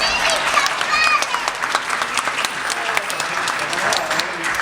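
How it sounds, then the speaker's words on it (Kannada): Sustained audience applause for a child at a school annual day, steady dense clapping from a crowd throughout, with light voices and hall noise underneath. "ಎಲ್ಲರೂ ಅವಳಿಗೆ ಚಪ್ಪಾಳೆ ಹೊಡಿರಿ"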